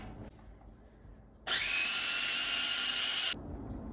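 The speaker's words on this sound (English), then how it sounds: "Now we're gonna blend." A kitchen blender whirs loudly for about two seconds, blending a citrusy salad dressing with black pepper; the motor is close and steady with a rising pitch, then stops abruptly, leaving quiet room noise.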